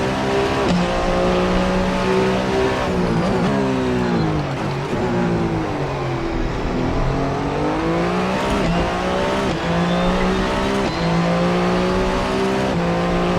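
A Le Mans hypercar races flat out in the Assetto Corsa video game, its engine roaring loudly through repeated rising revs and quick downshifts. Sweeping pitch changes mark gear changes and corners, and a faint tire squeal breaks through the continuous drive.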